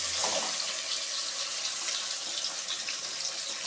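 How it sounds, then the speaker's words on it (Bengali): Water pours steadily while a mixer grinder jar is being rinsed, a soft continuous hiss and splash at low level with no talking. "মিক্সি জেরটা ধুয়ে একটু জল দিয়ে দিলাম।"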